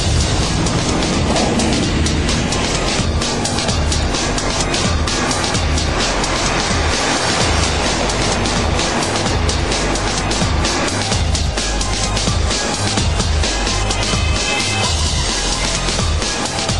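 An Audi S6 climbs the steep Kaipola ski jump ramp, an 80% incline rising 48 metres, its engine a loud, continuous roar that holds strong and steady throughout with no voices over it.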